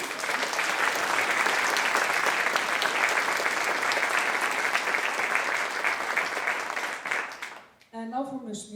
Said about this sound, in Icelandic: Mér finnst nú alveg að það megi klappa fyrir því.